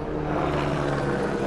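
A steady mechanical drone of a helicopter passing, a continuous low rotor hum that stays fairly even and moderately loud.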